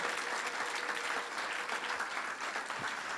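A church congregation breaks into sustained, dense applause during a sermon, a steady wash of clapping filling the room with little else heard.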